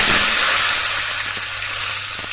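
Curry leaves and asafoetida crackle in hot oil as a tempering for oats dhokla, with the gas just turned off. A steady, close, bright sizzle carries on without a break and fades slightly toward the end, with no one talking.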